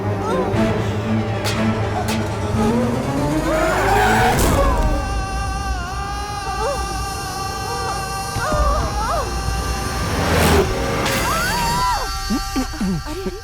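A car pulls up with squealing tires and a rough engine rumble, with sharp skids and clunks breaking through, and voices speak over parts of it.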